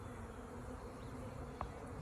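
Honeybees hum at a hive in a low, steady drone with a brief click near the end and no voices.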